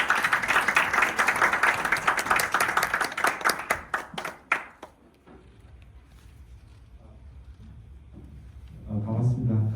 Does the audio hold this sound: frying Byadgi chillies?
no